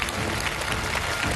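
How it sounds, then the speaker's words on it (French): Television studio audience claps for a young contestant, a short burst of dense, loud applause with no talk. "je pense qu'on peut vraiment applaudir ce garçon très très fort pour l'encourager"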